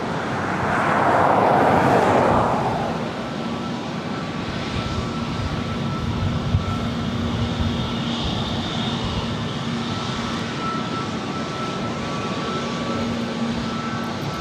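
Jet engines of an Airbus A321neo at LAX, bound for Salt Lake City, roar near and loud, with a rising swell early on that settles into a steady, droning whine with faint tonal hums.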